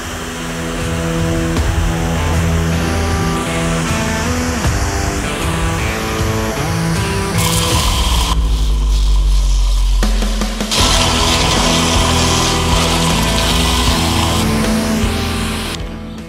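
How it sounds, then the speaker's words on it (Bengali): An ACI Smart 1200W high pressure washer runs while cleaning a motorbike. Its loud, steady motor whine continues for the whole stretch and shifts briefly in tone partway through before settling back. "এমন একটি হাই প্রেশার ওয়াশার মেশিন থাকলে বাইক ওয়াশ করা খুব সহজ"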